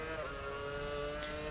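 A Formula 1 car engine in the racing game F1 Championship Edition, set at Suzuka, holds a steady high whine at a fairly quiet level, with a brief bright hiss near the end.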